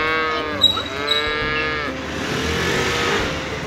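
A cow moos loudly in a long, drawn-out call lasting several seconds, with harmonic lowing that swells and fades over a steady background of outdoor noise on a balcony.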